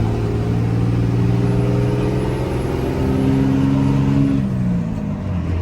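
A 20-inch lifted Cummins diesel truck cruising on the highway at about 70 mph, its engine drone loud and steady from inside the cab, with a gear shift dropping the pitch near the end.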